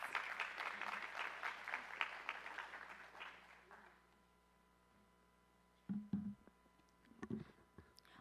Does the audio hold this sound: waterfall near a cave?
no